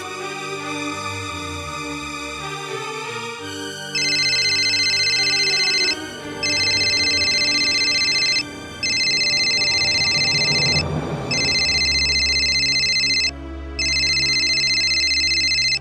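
A phone ringtone in a Bhojpuri TV serial rings in repeated electronic bursts, starting after a few seconds and pulsing on and off in a steady pattern over a low background bed of music.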